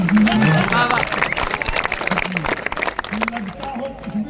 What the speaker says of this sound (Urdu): ایک بار ذرا سے تالی بجا کے مجھے زندہ کر دیجیے.